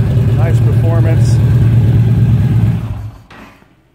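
A 2011 Yamaha Stryker 1300 motorcycle engine rumbles steadily and close by at a low idle, then cuts off near the end, with a voice talking over it.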